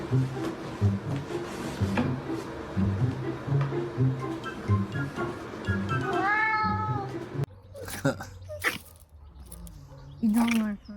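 A cat growls and yowls in a long, wavering, rising and falling cry, with sharp knocks and bumps around it and people talking and laughing close by.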